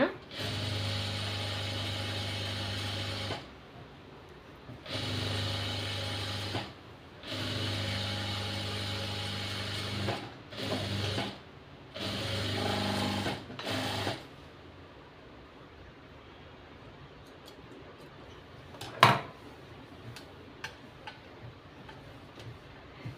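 A home sewing machine stitching a nightie alteration runs in several bursts of steady mechanical whirring separated by short pauses, close and loud, then quiet room tone with a single sharp click near the end.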